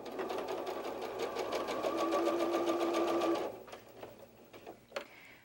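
A sewing machine stitches down the blue edge of a fox softie, a steady rapid needle rhythm running close and loud for about three seconds before stopping, followed by faint handling clicks of the fabric.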